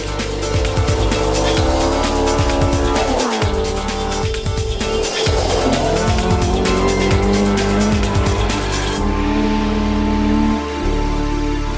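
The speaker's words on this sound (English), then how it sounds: "reverberating to competition engines from a wide manner of machinery" Loud, continuous roar of rally car engines revving and passing at the 2004 Dogleap Rally in Limavady, with tyre squeals and shifting engine pitch throughout, close and busy.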